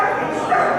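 A dog barks and yelps inside a prison, loud and close, blended with a voice talking over it.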